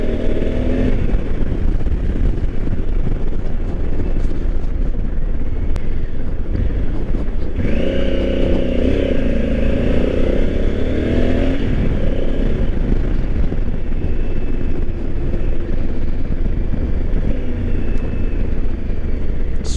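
A 2020 Honda Africa Twin motorcycle on a dirt ride, its engine droning loud and close throughout with a surge of revs in the middle, mixed with rushing wind, no voices.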